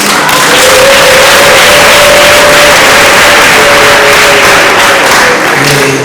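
A church congregation applauding, dense continuous clapping filling a large room, loud and steady throughout with a faint tonal hum underneath.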